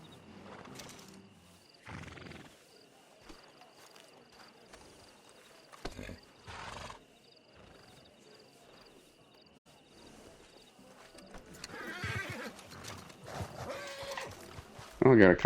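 A horse in Red Dead Redemption 2 Online, clopping hooves and whinnies amid outdoor game ambience with insects and wildlife, moderately near, with a louder burst of activity at the end.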